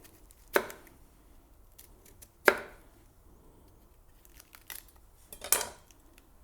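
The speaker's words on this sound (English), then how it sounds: "So for that we'll need half a fennel. I like to cut this part out." A kitchen knife cuts through half a fennel bulb on a board, giving three sharp, separate chopping strokes spaced a couple of seconds apart, close and crisp against a quiet room.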